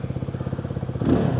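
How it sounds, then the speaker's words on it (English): A Benelli TRK 251 motorcycle idles close by, its exhaust putting out a rapid, even low-pitched thumping that swells slightly louder toward the end. "Now next I want to see how this exhaust sound, because that's something that I'm really excited to hear about Benelli."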